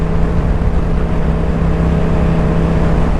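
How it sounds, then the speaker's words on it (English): Yamaha R7 motorcycle with an aftermarket intake and ECU flash, pulling under load with a steady, loud droning engine and intake roar that holds constant throughout, no talking. "There's definitely a lot more intake noise under load."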